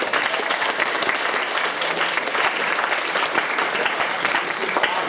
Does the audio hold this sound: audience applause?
yes